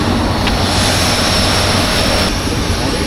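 Steady loud roar of Airbus A350-900 airliner engines heard while boarding for a Barcelona to Milan flight, a constant broadband hum with no talk.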